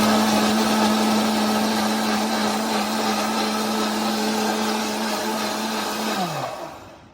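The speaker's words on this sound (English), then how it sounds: "I'm going to turn watermelon in my blender here" A blender blending watermelon runs at a steady high whine close by, then winds down and stops near the end.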